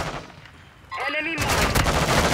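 Gunfire in Call of Duty: Modern Warfare 2 in a pistols-only match: after a brief lull, rapid loud shots burst in and continue densely to the end, with game voice sounds mixed in.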